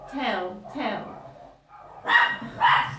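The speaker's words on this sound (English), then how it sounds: "My neighbour's gone out and walked past the bottom dogs and they've started barking." Dogs at a neighbour's place bark in a few loud bursts heard from inside a flat, with a person talking in between.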